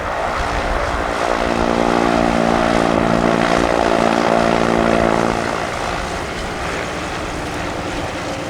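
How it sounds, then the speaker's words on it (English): Oracle Challenger III aerobatic propeller plane at an airshow, its engine winding down as the propeller comes to a stop: a loud, close harmonic drone that slides lower and fades into a steady rumble with wind-like noise. "as the propeller comes to a stop"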